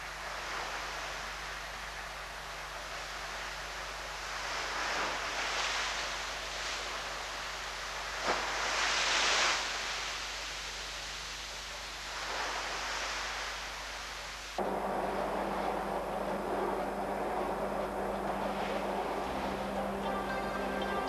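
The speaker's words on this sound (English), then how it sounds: "Here too, it's the larger waves that cause most of the overtopping discharge." Waves overtopping a dike in a laboratory wave flume: broadband rushing water noise that swells in several bursts as larger waves spill over, then settles into a steadier hiss, with no voices.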